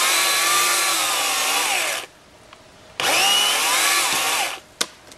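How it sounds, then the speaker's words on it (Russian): A chainsaw cuts into a tree at a dacha plot in two loud, steady high-revving bursts separated by a short idle pause, with a faint knock at the end. "мы будем пилить, понятное дело, достаточно хитро"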